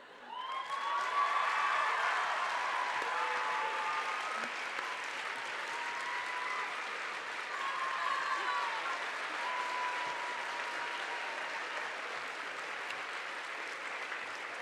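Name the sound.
audience applause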